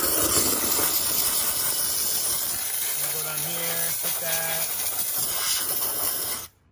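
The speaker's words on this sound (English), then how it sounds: "We're just gonna shoot it with the steam here." A handheld steamer blasts steam onto a car's door jambs pre-soaked with cleaner, giving a loud, steady hiss for several seconds that cuts off abruptly, with a brief tonal whine from the machine partway through.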